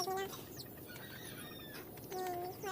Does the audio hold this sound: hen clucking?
yes